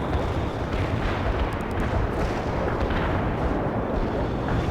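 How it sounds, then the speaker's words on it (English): Dense, continuous rumbling booms of an artillery barrage in the video game World in Conflict, heavy and sustained with no pauses, filling the whole stretch. "Launching a barrage. Our barrage hit the target."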